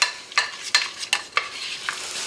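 Onions frying in a pan give off a steady, soft sizzle, with about five distinct scraping stir strokes spaced roughly every half second, close and fairly quiet, with no voices.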